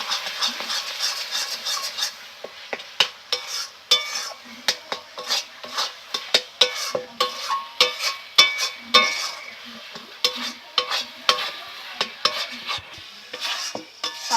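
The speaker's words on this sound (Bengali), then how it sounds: "দিয়ে আমি এগুলোকে ভালো করে আবার মিশিয়ে নেব।" A spoon stirs and scrapes through tal pitha batter in a metal bowl as milk is mixed in, close and rhythmic, with repeated clinks and taps against the bowl in a steady pattern.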